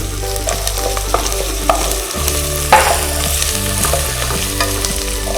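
Chopped onions sizzle in hot oil in a pan for palav, a continuous close frying hiss with light crackles and a few stirring clinks, no voices.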